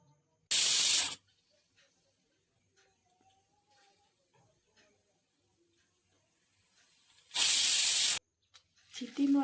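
A pressure cooker cooking dal lets off two loud bursts of hissing steam whistle, each about a second long and several seconds apart, with quiet kitchen clatter between.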